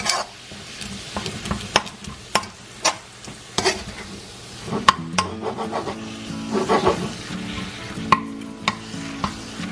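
Ground pork for egg roll in a bowl fries on a medium-heat pan while a utensil stirs it, producing a continuous sizzle punctuated by repeated scraping and tapping strokes against the pan.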